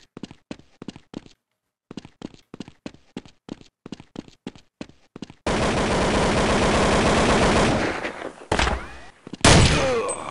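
Counter-Strike 1.6 gunfire: a run of short, sharp rifle bursts, then a sustained loud stretch of heavy automatic fire with a couple of further blasts at the end, no talk.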